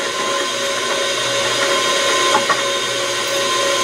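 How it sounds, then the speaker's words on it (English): Drill press boring through a hole in soft aluminum sheet metal, a steady loud whine with a bright metallic edge and a couple of brief bites as the cutter engages. "so I'm going to drill right through the hole"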